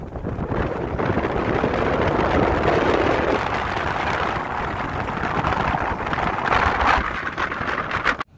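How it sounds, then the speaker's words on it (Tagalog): Strong wind at sea buffets the microphone in a loud, continuous roar, with choppy waves mixed into the gusts and no voices heard. "Mahangin, maalon."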